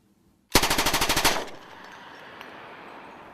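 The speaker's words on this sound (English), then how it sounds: "Primary gun used by the Venture crew." A short, loud burst of automatic fire from the Venture crew's primary gun, recorded among hills for the King Kong film: about a dozen rapid shots in under a second, followed by a long rolling echo and reverberation off the surrounding slopes.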